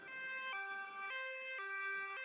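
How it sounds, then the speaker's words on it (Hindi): Ambulance siren wailing in a two-tone pattern, alternating high and low pitches in steady half-second steps, loud and close with no voices. "एम्बुलेंस लाडो को लेकर अस्पताल की तरफ निकल पड़ती है।"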